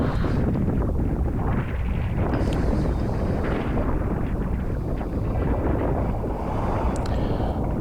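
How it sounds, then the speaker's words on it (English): Strong beach wind during kitesurfing at Jetty Park, Fort Pierce, Florida, roars and buffets the microphone continuously, a dense rushing noise with no breaks. "it was pretty windy"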